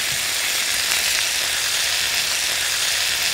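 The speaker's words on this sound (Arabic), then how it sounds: "انا سخنت الووك كويس قوي قوي قوي، هاخد معلقة الزيت، هاخد الفراخ اللي احنا مقطعينها شرايح" Sliced chicken sizzles steadily in oil in a very hot wok, a loud continuous hiss and crackle with no voices over it.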